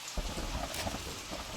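Steady rain with a thunder rumble in a first-person shooter video game, a continuous dense wash of falling rain that swells briefly, loud and close throughout.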